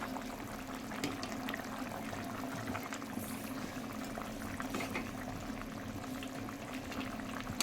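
A thin rui fish curry with black cumin and vegetables bubbles steadily in a pot, a continuous close simmering hiss and popping that holds even throughout, with no talk.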